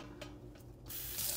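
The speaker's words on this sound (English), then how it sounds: "spray it, use my sprayer to get all the soil out of the plant." A kitchen sink sprayer blasts water over the roots of a variegated banana plant to wash the soil away, a rising broadband hiss that grows louder and steadier near the end.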